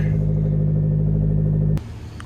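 A supercharged Scion FRS engine hums in a steady low drone while driving, close and fairly loud, then drops off abruptly near the end with a sharp click.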